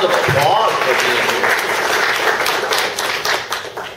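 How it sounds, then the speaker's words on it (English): Audience applause at a general meeting, welcoming first-timers: dense, loud clapping from a room of people that fades gradually toward the end. "Give them a round of applause for being"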